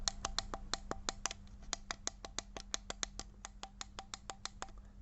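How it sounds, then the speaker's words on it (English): Plastic wireless doorbell buttons pressed repeatedly, a quick series of sharp light clicks in fairly steady rhythm over a low hum, close and fairly faint. "these buttons sound like this"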